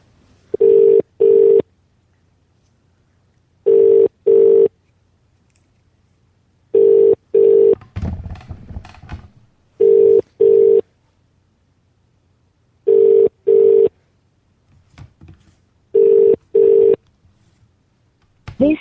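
Ringing tone on a Vodafone mobile call, sounding as repeated double bursts, six pairs spaced evenly about three seconds apart, with a brief muffled rustle or voice in one gap.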